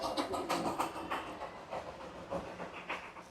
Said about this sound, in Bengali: কন্টিনিউ টয় ট্রেনের আওয়াজ হয়েই যাচ্ছে